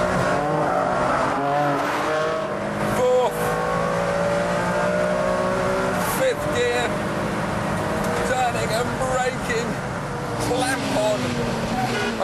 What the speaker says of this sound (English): But now the car leaps out of that corner.